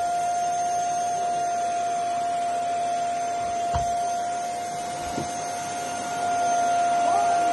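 A household vacuum cleaner runs steadily at close range, its motor giving a constant high-pitched whine over a broad hiss, with two brief knocks partway through and a slight rise in level near the end.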